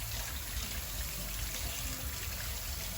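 Cold water runs steadily from a kitchen tap into a sink during dishwashing, a dense, even rushing hiss with no pauses.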